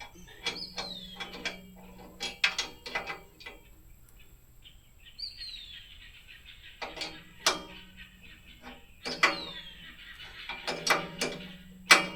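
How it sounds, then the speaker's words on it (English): A ratchet wrench clicks in short bursts as it tightens nuts on a clamp-on debris fork for a tractor, with birds chirping and singing nearby outdoors between the bursts. "They come back in and tighten up those nuts."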